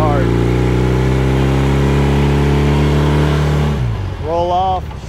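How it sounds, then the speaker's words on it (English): A 1978 Honda CB400A Hondamatic motorcycle accelerating hard, a loud steady engine drone that climbs, drops off as the throttle rolls back, then rises briefly again. "And then we'll kind of hard accelerate."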